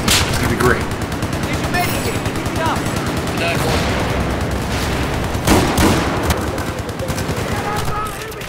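Battlefield 4 gameplay in close-quarters fighting on Operation Metro, with dense automatic gunfire and bursts of shots going on almost nonstop and loud. Players' voices come through here and there under the shooting.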